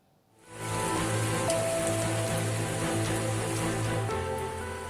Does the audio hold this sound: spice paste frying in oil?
no